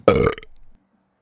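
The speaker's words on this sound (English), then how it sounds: "Excuse me, I got hiccups" A single loud, throaty vocal hiccup from a man, a short voiced gulp that trails off quickly, heard alone at close range.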